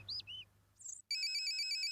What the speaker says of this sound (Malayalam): ഫോൺ അടിക്കുന്നുണ്ട് അകത്താണല്ലോ.